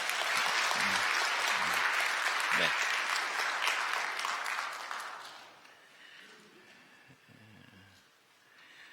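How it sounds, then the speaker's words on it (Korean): A church congregation applauding during Sunday worship to welcome a newly registered member, a steady round of clapping filling the room for about five seconds before fading, followed by a voice speaking quietly. "여러분들 환영의 박수 부탁드립니다"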